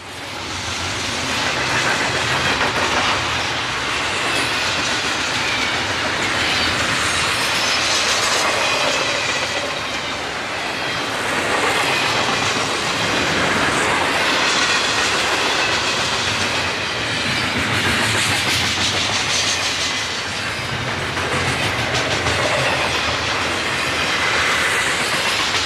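A Norfolk Southern train rumbles past steadily in falling snow in Indiana, with clattering wheels, a broad hissing roar, and occasional metallic squeals, loud and continuous throughout.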